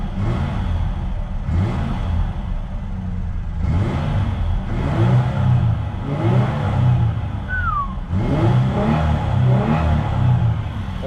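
An old high-mileage truck engine, smoky and in need of motor mounts, revs repeatedly in loud surges that rise and fall about every two seconds over a rough, clattering idle, close up with no talk.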